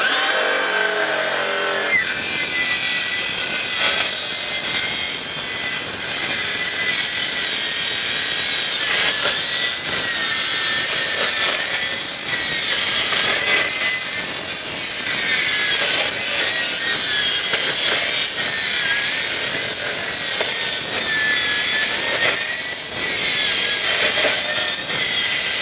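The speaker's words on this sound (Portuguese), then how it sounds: "É uma serra circular normal, só que ela é para cortar. Ela é de cortar aço, tá?" A handheld circular saw fitted with a steel-cutting blade bites into folded metal, giving a loud continuous harsh grinding screech that holds steadily for about twenty-five seconds.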